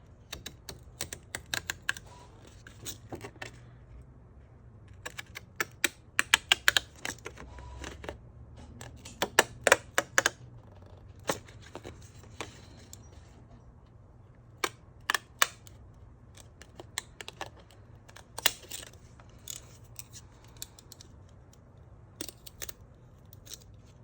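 Fiskars postal scissors snip through paper in a steady run of sharp, close clicks and cuts, some clustered in quick bursts, with short pauses between, quiet room otherwise and no talking.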